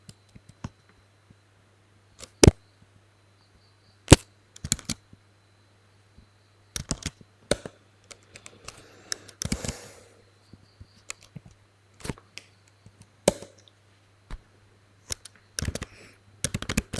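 Computer keyboard typing while writing code in an ERPNext development session, heard as sparse, irregular clicks and short bursts of keystrokes, fairly close and quiet, with no talking.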